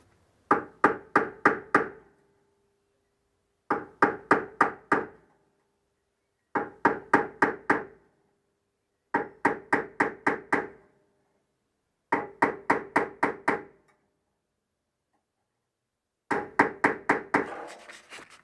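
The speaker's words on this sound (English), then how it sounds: "after a few whacks with the hammer, you can see in the corner where those little indentions are made" Light hammer taps on the metal corner of a Classic Mini scuttle panel, struck in quick bursts of five or six sharp hits with short silent pauses between groups.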